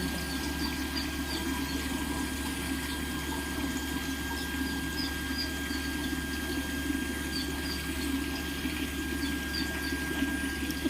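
Water purification plant machinery and a liquid pump run steadily with a constant mechanical hum and rushing water, a loud unbroken drone from start to finish.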